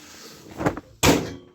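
A cabinet door on a workshop cabinet being built, with its gap set by adjustment bolts, knocks shut twice, a softer thud then a sharp, louder close about a second later, nearby with no talk.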